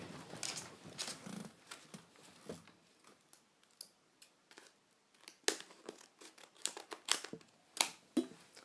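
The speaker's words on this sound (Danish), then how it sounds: "jeg henter lige saks" Scissors snip and rustle through plastic earbud packaging close by, giving a run of sharp cuts, crinkles and tearing noises in irregular bursts, some louder than others.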